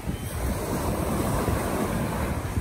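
Caribbean Sea surf washing onto a beach on Mexico's Riviera Maya, a steady close roar of breaking waves with wind buffeting the microphone and no voices.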